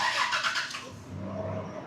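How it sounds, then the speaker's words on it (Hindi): A parked Toyota Prado RZ three-door cranks on its starter and catches, a short burst of cranking followed by a steady idle rumble close by, with no voices. "मैं सेल्फ लगा के चेक करता हूँ कि हाफ सेल्फ पे होती है स्टार्ट के नहीं"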